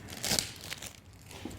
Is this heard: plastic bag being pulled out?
yes